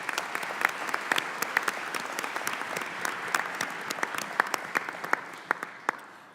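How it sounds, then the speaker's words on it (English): Forum audience greeting a guest with a round of applause at a Senate cancer coalition event: moderate clapping with distinct individual claps standing out, steady throughout. "we'd like very much to welcome you with a round of applause"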